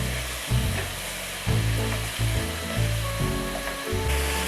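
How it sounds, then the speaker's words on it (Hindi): Fenugreek leaves are fried in masala and stirred with a spoon so their water cooks off, giving a constant close sizzle broken by repeated scraping strokes of the spoon against the pan. "इस तरह चमचा चला के मेथी को भूनेंगे। मेथी के पानी को अच्छी तरह खुश्क करेंगे।"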